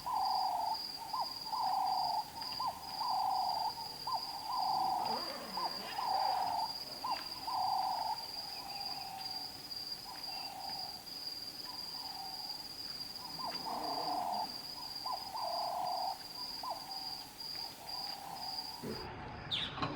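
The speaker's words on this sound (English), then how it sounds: "we were lucky enough to see 2 southern white-faced owls" Southern white-faced owls hoot repeatedly in the Botswana wild near a campsite, a steady series of soft, evenly spaced calls carried over a constant high insect trill.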